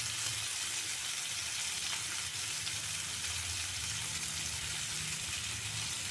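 Sliced onion and tomato frying in hot oil alongside pomfret fish, a steady, loud, close sizzle with no talking.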